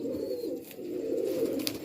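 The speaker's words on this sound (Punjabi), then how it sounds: "ਇਹ ਆ ਜੀ ਅਨਨੋਨ ਕਬੂਤਰ" Pigeons cooing close by on a rooftop loft of mixed, unknown-breed birds: a continuous low, throaty rolling coo over the whole brief stretch, with no talk.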